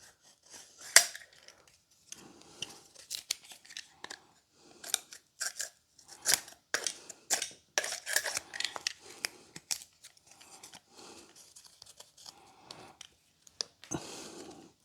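A Stanley knife trims burrs off a Hoffman SN4 self-spacing national hive frame. Short, close scraping cuts and clicks come in irregular bursts with brief quiet gaps, and no one speaks.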